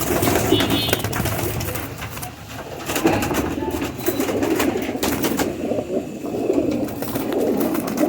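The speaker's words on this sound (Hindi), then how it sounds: "सारे फ़कीर गुल कबूतर हैं" Soft, continuous cooing of fancy Faqeer Gull pigeons close by, a low murmuring burble that keeps going, with faint shuffling and background noise.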